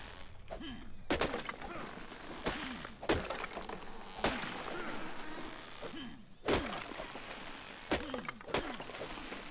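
Trees being knocked down in ARK Survival Evolved, Jurassic Park mod, crack and splinter in a string of loud woody impacts spaced a second or two apart, each with a short crunching tail over constant game ambience.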